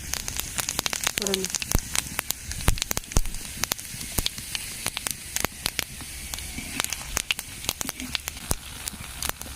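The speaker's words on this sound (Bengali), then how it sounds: "একই তেলের মধ্যে জিরে আর শুকনো লঙ্কা দিয়ে দেবো" Cumin seeds and dried red chillies crackle and spit in hot oil used for frying catla fish, with rapid sharp pops over a soft sizzle and faint background voices.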